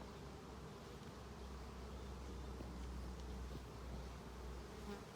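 Dense, steady buzzing of honey bees swarming over hive frames during an inspection of a colony, a continuous close drone that holds evenly throughout with no talking.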